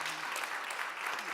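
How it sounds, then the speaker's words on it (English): Audience applause for a panel at an economic inclusion event, a short burst of dense, even clapping from the room with a voice briefly audible beneath it. "Please give a round of applause to the panel."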